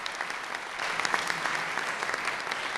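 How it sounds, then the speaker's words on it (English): A steady round of audience applause for school robotics teams at a school board presentation, fairly soft and distant, continuous clapping with no talk over it. "let's give them a round of applause for all their hard work."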